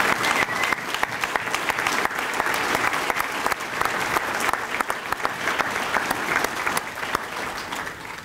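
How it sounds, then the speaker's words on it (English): Sustained applause from a dinner audience at the 2014 ARC Siouxland Heroes of the Heartland awards dinner, steady dense clapping filling the room for about eight seconds with a few louder claps standing out. "join me in one more round of applause for all the 2014 Heroes of the Heartland"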